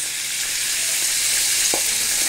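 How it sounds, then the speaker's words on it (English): Steady, loud sizzling and spitting of sausages frying in bacon grease, continuous crackle with no voices. "I'm using the grease from the bacon and I'm just frying off these"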